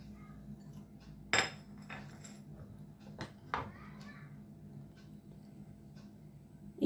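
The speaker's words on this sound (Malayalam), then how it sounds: "അപ്പോൾ ഇതിനകത്ത് ഇട്ട് കൊടുത്തിട്ട് ഒന്ന് ചതച്ചെടുക്കാം." Ginger, green chilies and curry leaves crushed in a mortar for pakoda, giving a few sharp, hard knocks and clinks spaced out among quieter scraping in a calm kitchen.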